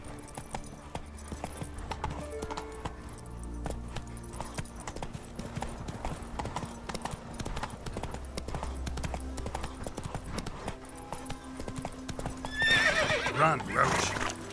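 Roach, Geralt's horse in The Witcher 3, gallops with a dense, rapid clip-clop of hooves under ongoing music and voices, ending in a loud, close neigh near the end.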